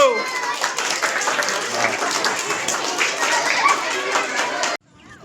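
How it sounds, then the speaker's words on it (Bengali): Schoolchildren clap at a Children's Day school event in Amta attended by police officers, a busy, close burst of crowded clapping mixed with voices that cuts off abruptly near the end. "সকলে হাততালি দাও একটু"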